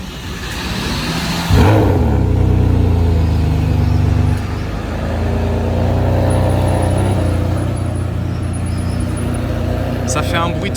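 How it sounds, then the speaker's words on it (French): Ferrari naturally aspirated V12 cranking and firing up with a loud bark, then settling into a deep, rough, rumbling idle out on a Monaco street, with voices talking over it. "on va avoir droit au startup du V12 atmosphérique qui est le même moteur que sur la Ferrari Enzo"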